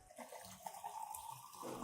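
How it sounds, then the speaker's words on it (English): About a liter of clean water poured to dilute an orchid fertilizer solution, a short, close splashing pour like a running tap, fairly quiet and heard alone. "Then I will dilute the solution with about 1 liter of clean water to adjust it to a suitable concentration."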